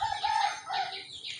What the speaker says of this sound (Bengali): এই মোরগটা এটা আমার ভালো একটা মোরগ